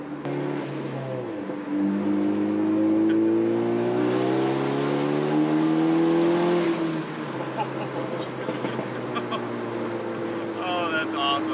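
A big-turbo Ford Focus ST fitted with an HKS blow-off valve, heard from inside as the engine drones and climbs through revs, with a sharp hiss of released boost midway and the note settling afterward.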